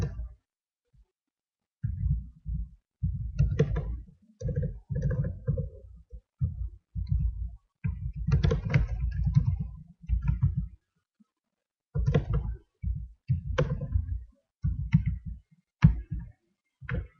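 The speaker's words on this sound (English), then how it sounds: "So let's type the name of the school." Typing a school's name into Microsoft Word on a computer keyboard gives clusters of muffled, thumpy keystrokes in uneven bursts with short pauses between them, close up, with no voices.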